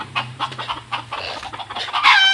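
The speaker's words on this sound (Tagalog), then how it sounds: "Ito po yung mga labuyo, yung mga dati pa nating labuyo." Red junglefowl (labuyo) cluck in short, repeated bursts at close range, with a steady low hum beneath and a louder, sharper call rising at the end.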